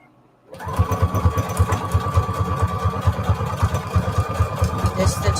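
A sewing machine stitches paper ruffles onto index cards. After a brief silence it starts up and runs steadily, a loud, close, rapid mechanical chugging that stays even throughout.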